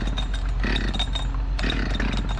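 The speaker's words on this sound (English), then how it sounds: "take a chainsaw and whack them off" A Husqvarna chainsaw cutting up a garage tree runs loud and close, its engine holding a steady buzz that surges and bogs twice as it bites into the wood.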